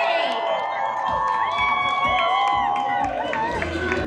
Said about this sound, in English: Everyone make some noise